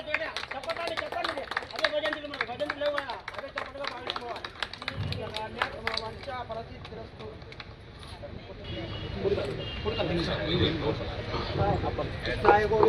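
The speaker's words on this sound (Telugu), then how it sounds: "మేడం అందరూ చప్పట్లు." Applause from an audience at a Seva Bhavan inauguration: dense, rapid clapping for the first several seconds, then fading into a murmur of crowd chatter and background noise.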